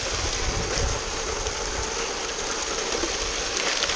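Creek water flowing steadily near the bottom of a creek bed, a constant broadband rushing wash with no pauses, close and fairly loud throughout.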